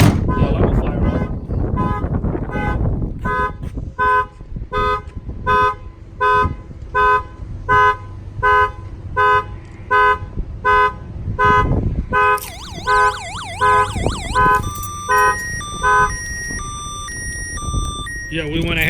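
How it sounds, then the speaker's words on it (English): Car alarm on a vehicle fitted with a tailgate-protection system, set off by opening the tailgate: a loud, close run of evenly pulsed tones that moves into warbling, sweeping siren patterns and then stepped chirps, after a brief stretch of wind noise and rumble. "As soon as we open up the tailgate, the alarm will fire off."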